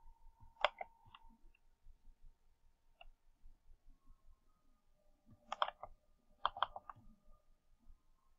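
Mouse clicks on a computer link at a desk, a few sharp, quiet clicks spread out in a small pair and cluster with faint background hum and no talk.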